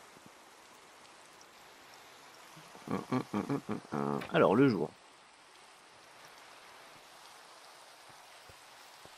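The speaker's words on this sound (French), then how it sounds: "Il pleut, on voit rien." Steady rain in the Minecraft-based survival game The Crafting Dead, a soft continuous hiss underneath, while a player speaks briefly in the middle of the clip.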